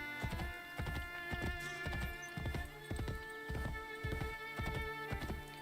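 Horse hooves clip-clop at a steady walking pace in Assassin's Creed Brotherhood, even close beats repeating evenly over a low hum of game ambience, with no voices.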